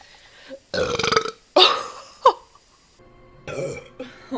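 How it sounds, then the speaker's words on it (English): Young women on a livestream let out several loud, close burps in a row, long rasping belches separated by short pauses, followed by a shorter burp near the end; no clear talk. "Oh my gosh, that was a nice burp."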